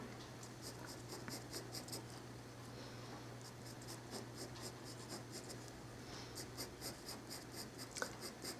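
Colored pencil scratching on paper in short, quick strokes while drawing a bird's feathers, forming a steady, soft rhythmic scratching close to the listener.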